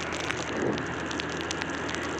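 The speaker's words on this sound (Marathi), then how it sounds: "खूप पाऊस आहे" Heavy rain pouring steadily near Ekvira Devi temple on Karla hill, a dense continuous hiss of drops striking surfaces close by, with no voices.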